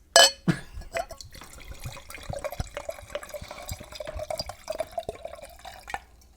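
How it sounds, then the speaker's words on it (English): A drink poured into a glass: a sharp clink up front, then a steady trickling pour with faint drips, close and fairly quiet. "I poured a little too much in mine, but that's okay."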